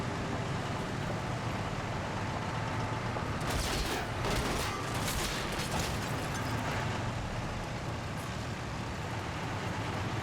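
Heavy, sustained gunfire in the World War II game Combat Mission: Battle for Normandy, a dense, steady roar of distant shooting with a burst of sharper shots near the middle.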